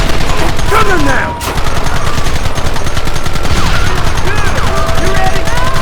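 Heavy video game gunfire in Red Dead Redemption, with rapid overlapping shots and machine-gun bursts filling the whole clip loudly, with a brief dip near the start and shouted voices mixed in.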